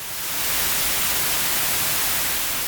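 Steady, even white noise hiss fills the whole clip at constant loudness, broadband and unchanging, with no other sounds.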